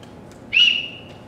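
An emergency whistle gives a single short, shrill blast lasting about half a second, clear and fairly close over a quiet background.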